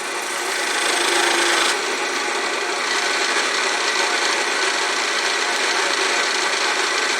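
Steady broadband rasping hiss of a wooden lace bobbin spinning on a lathe under a cutting tool, close and continuous, a bit louder in the first couple of seconds, with no talk.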